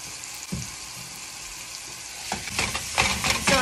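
Ground meat sizzling hard in olive oil in a large skillet for picadillo, a steady broadband hiss with louder scraping bursts toward the end as the meat is broken up.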